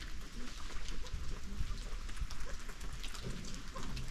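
Steady rain falls outdoors at a pheasantry on a rainy day, a dense, even hiss of drops on surfaces that runs unbroken throughout, with faint bird sounds beneath.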